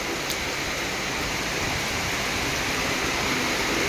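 Steady, dense hiss of heavy rain pouring down continuously in Khon Kaen, Thailand, loud and close, with no voices.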